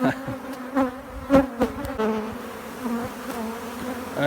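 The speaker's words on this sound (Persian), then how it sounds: "یه مقدار تکوندم و زنبورها شدید عصبانی شدن" Agitated honeybees swarm after their hive frames are shaken, producing a dense, continuous buzzing close by, with a few louder surges as bees fly near.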